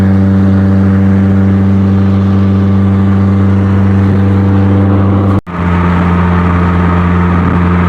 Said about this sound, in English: The truck is hauling the car dolly great